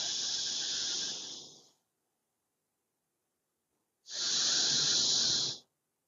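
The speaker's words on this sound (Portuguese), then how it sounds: "A respiração vai sair entre os dentes." Two forceful breaths exhaled between the teeth during a spine exercise workout, each a loud, close hiss lasting over a second, separated by a silent pause.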